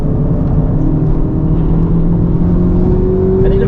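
A 2023 FL5 Honda Civic Type R tuned to 350 hp on RE-71RS tires drives hard on a track, its engine a steady, loud drone from inside the car with a slowly rising pitch near the end.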